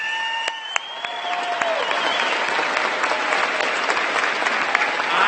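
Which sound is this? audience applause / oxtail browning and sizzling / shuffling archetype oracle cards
audience applause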